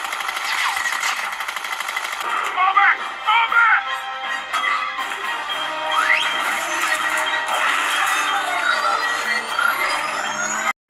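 Poco M7 Pro 5G phone stereo speakers playing loud, bright mixed audio of music and effects, continuous and dense for the full stretch before cutting off abruptly at the end.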